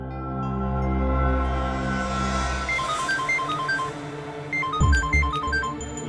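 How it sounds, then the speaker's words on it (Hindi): A mobile phone ringtone plays a repeating melodic electronic tune over a low musical drone, moderately loud and close, with a short thump partway through. "उसी का फोन है।"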